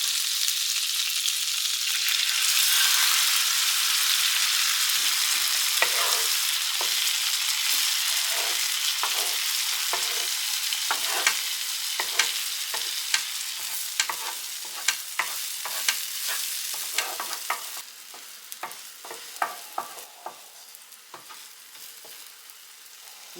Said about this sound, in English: I'm going to go ahead and I'm going to scramble my egg right here on the griddle.